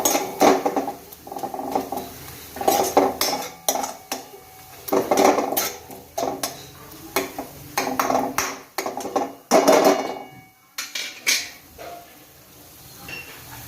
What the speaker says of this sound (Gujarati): આને આપણે સરસ શેકાવા દેવાનું છે, જેથી આપણા મસાલા નીચે બળી ના જાય